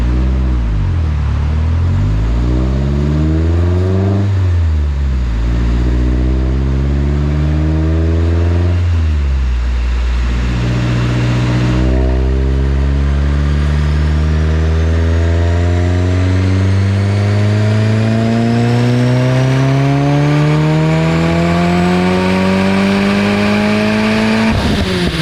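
A 2023 Subaru WRX turbo engine, run on 92-octane pump gas, revs repeatedly on a dyno: loud, close, rising engine pulls with harmonics sweeping upward, cut by short drops between runs and ending in a long full-throttle climb.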